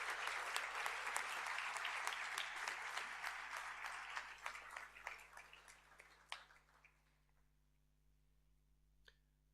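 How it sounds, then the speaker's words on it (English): Audience applause at a senior school prizegiving for a former school dux, a dense burst of clapping that thins into scattered claps and fades to near silence, with a steady low hum underneath. "So we can give Taylor a round of applause"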